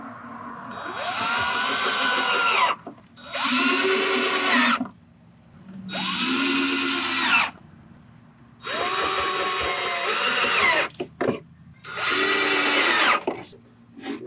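Cordless power drill driving screws into the window of a KidKraft Lakeside Bungalow wooden playhouse, five loud whirring bursts of two to three seconds each with short pauses between, close and clear.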